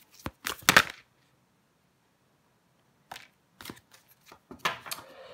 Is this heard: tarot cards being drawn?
yes